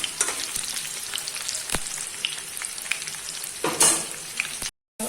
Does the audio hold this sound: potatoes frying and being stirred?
yes